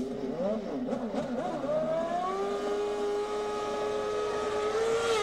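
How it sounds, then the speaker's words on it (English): An IndyCar race car on methanol revs hard and pulls away from a pit stop, its engine note climbing steadily in pitch and holding a loud, sustained whine over the busy pit-lane noise. "Revs way up and moving."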